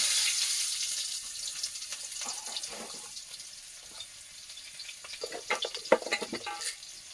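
Chopped onion goes into hot oil in a pan where aubergine has just been fried, producing a close, crackling sizzle with bursts of spattering and stirring scrapes, and no talk.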